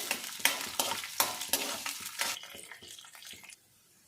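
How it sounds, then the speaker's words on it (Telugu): Chana dal, urad dal and cumin seeds are roasted in a pan until golden, with rhythmic sharp scraping stir strokes over a light sizzle that trails off and stops near the end. "ఇవన్నీ దోరగా వేపుకోవాలి"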